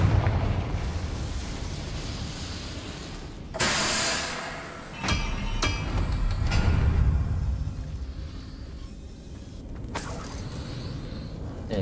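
The Confringo blasting spell in the video game Hogwarts Legacy produces several explosive bursts with crackling, rumbling decays, spaced across the stretch over a steady game-ambience bed, with no talk.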